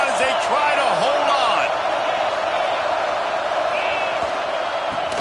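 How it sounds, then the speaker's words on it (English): Stadium crowd noise in a college football video game: a loud, continuous roar of fans on second down, with scattered whoops and a few sharp bangs on top. "This crowd even louder now on 2nd down as they try to hold"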